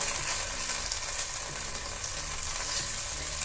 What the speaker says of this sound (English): brown as much meat as we can at a time without overcrowding the pan